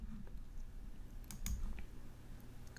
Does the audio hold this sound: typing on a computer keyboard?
yes